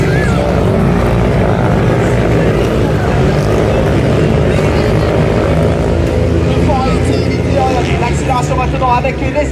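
Grass track racing sidecar engine accelerating hard at a Saint Macaire meeting, a loud continuous motor roar that stays steady throughout, with a commentator talking over it.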